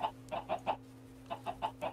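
A chicken in the Minecraft video game clucks in two quick bursts of four short, evenly spaced clucks each, with a steady low background hum; close and clear, no talk.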